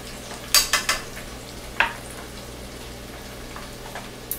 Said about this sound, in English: I'm gonna let that red onion fry